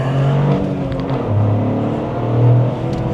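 A Toyota GR Corolla driving in rear-biased all-wheel-drive mode, 30 front and 70 rear, gives a steady loud engine drone heard from inside the car, with slight swells in pitch as it pulls along.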